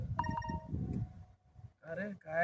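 A phone's incoming-message notification tone, in a rural farming conversation about a PM Kisan payment, sounds as short bright electronic beeps near the start and again toward the end, mixed with ongoing speech.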